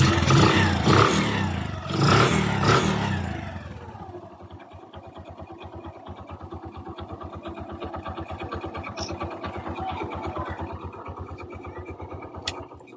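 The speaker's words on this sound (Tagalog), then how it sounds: "Balik brand new na ang tunog ng kanyang makina guys." Bajaj CT 100 motorcycle engine after a timing chain repair, revving loudly at first, then settling into a steady, even idle with a rapid regular putter, close by.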